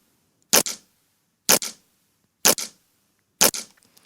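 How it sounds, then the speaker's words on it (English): A sticker peeled off a surface, processed with EQ and compression into a snare hit, strikes four times at an even one-second pace, each a sharp loud crack with a short second snap, alone against silence. "It's basically just me removing the sticker."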